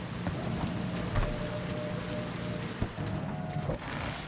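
Steady rain falls in Cyberpunk 2077 Phantom Liberty, a dense even hiss of drops on surfaces filling the whole moment, with a few brief sharper thumps and a faint low rumble underneath, no voices.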